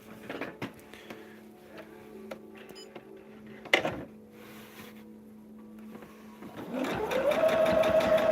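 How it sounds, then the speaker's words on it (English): Sewing machine stitching a quilt along marked diagonal lines, a steady hum from the motor with a few clicks and knocks, revving up louder and faster near the end, close by with no talking. "We're just sewing on the lines"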